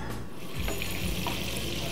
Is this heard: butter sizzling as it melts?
yes